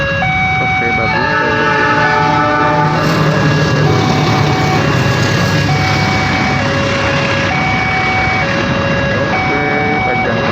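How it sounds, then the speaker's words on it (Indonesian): Long train rolling past at close range while waiting at a railway crossing, a loud continuous rumble of wagons with shifting horn-like tones and whistles layered over it, and voices faintly underneath. "panjang banget kan kereta apinya"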